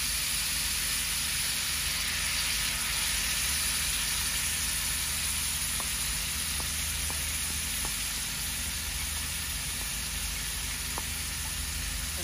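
Fish sizzling with turmeric and chili in a pan, a steady close frying hiss that runs without a break and carries no talk.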